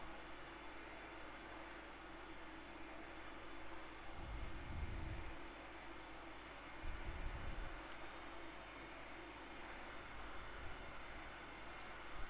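A simulated MD-82 airliner flying with Norwegian livery in a flight simulator, a steady low engine drone throughout with two brief louder rumbling swells, no talking.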